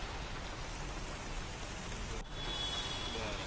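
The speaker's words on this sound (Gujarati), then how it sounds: "સાયન્સ સિટી વિસ્તારમાં પણ ભારે વરસાદ પડી રહ્યો છે" Heavy rain pours steadily in Ahmedabad's Science City area, a dense continuous hiss of water striking surfaces, close and fairly loud with no voices, with a brief dip partway through before it resumes.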